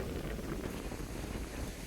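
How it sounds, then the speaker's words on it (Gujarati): Strong wind blows across a farm with coconut trees, a loud continuous rumbling buffet on the microphone, steady and close throughout. "બાકી પવન બહુ જોરદાર છે."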